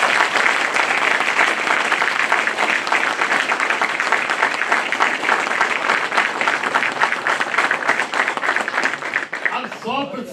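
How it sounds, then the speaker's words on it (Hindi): Loud, dense applause from the audience at a Bar Council of Delhi enrolment meeting, honouring the council chairman, steady clapping throughout that starts to fade as a voice begins speaking at the very end. "जोरदार तालियों से एक बार"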